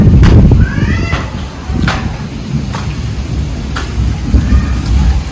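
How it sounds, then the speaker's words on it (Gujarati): Rain falls steadily on a rooftop terrace with a low rumble, punctuated by sharp drips tapping every second or so close by. "ધાબા ઉપર જોઈએ વરસાદ છે ઉપર"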